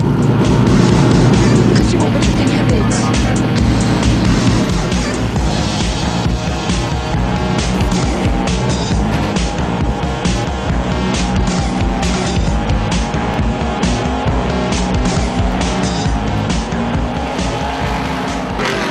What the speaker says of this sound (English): You hear the roars? That's a lot of cars happening in here.